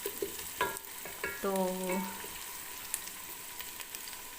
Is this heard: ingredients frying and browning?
yes